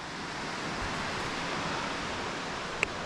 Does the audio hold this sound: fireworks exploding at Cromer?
no